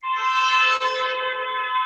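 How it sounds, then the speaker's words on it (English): A car horn sounds in the background during an outdoor morning yoga session, one sustained, fairly loud blare lasting nearly two seconds with no talk over it. "As the cars are honking in the background."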